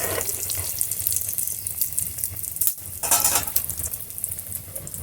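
Potato lollipops dropped one by one into hot oil, a steady bright hiss of deep-frying with crackling bursts, loud and close, with no voices.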